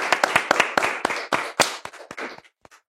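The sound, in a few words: audience applause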